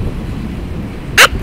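A single short, sharp sneeze bursts out near the end over a quiet room background.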